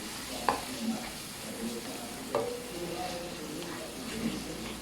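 Spices being stirred into tomatoes in a pan, soft sizzling under a few sharp spoon knocks against the pan, near and fairly quiet, with no talking.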